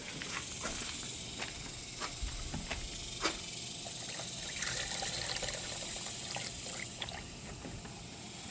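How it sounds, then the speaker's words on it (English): Water from a garden hose trickles and splashes steadily into a Platypus boat transom during a volume and leak test, a faint, continuous close stream with small irregular drips and splashes. "So we just need to fill it up and count as we measure out how much more water we need to fill it in."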